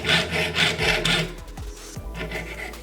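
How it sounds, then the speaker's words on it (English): A jeweler's saw rasps through metal in quick back-and-forth strokes, several rhythmic close scraping passes followed by lighter, softer strokes. "You want to place the blade straight up and down and kind of turn the piece as you up and down cut."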